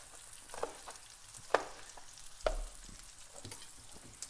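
Chilli peppers frying in a pan: a quiet, steady sizzle with a few sharp pops and crackles, close by and without talk.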